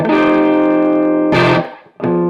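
An electric guitar plays clean chords through a small Epiphone Valve Junior tube amp turned down low: a long sustained chord, a fresh strum, then another after a short gap, bright and close with no talking.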